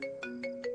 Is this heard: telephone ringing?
yes